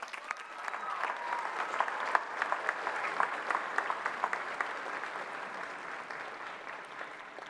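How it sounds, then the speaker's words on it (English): Sustained applause from a large audience at a university undergraduate commencement ceremony, dense steady clapping that stays even throughout with scattered sharper claps and no speech over it. "well-deserved round of applause."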